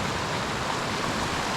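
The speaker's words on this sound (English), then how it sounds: "Little babbling brook." Small babbling brook at Cascade Springs, a steady broadband rush of flowing water heard up close, continuous and even with no other sounds.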